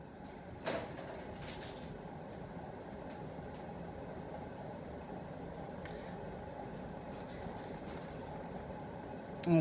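Antique 56-inch Westinghouse sidewinder ceiling fan running at high speed with worn bearings, giving a steady, rough whirring drone throughout, with a few faint clicks and a short knock near the start.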